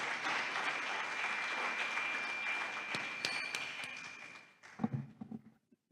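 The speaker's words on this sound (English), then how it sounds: "And I think she needs another round of applause." Audience at an inaugural university lecture claps in sustained, dense applause that tapers off near the end, leaving a few scattered claps and rustling.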